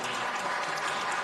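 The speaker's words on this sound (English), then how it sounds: "I'll ask you to give them a big round of applause for being here." Community meeting audience of the Los Angeles Police Commission applauding the commissioners, a dense, steady wash of many hands clapping at close-to-moderate distance, unbroken for the whole moment with no talk.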